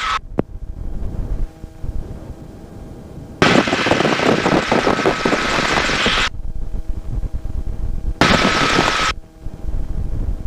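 A loud, steady rotor and engine roar of a 1952 Bell 47G helicopter swells in twice, each time cutting off abruptly, with quieter rumbling gaps between.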